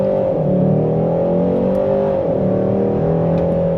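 A 2025 Hyundai Sonata sedan engine revs and hums steadily, its pitch rising and falling a little, heard clearly with no talking.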